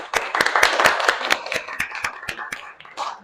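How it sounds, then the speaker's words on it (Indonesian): Scattered applause from a small classroom group after an Islamic studies presentation, a dozen or so sharp, uneven claps ringing out close by and thinning toward the end. "Mari kita beri aplaus bersama-sama."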